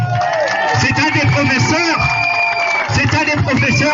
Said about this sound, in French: je vais vous demander de l'applaudir fort